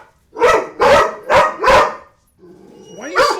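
Four loud, evenly spaced dog barks ring out close by, followed by a short pause and then a rising whine that ends in one more bark.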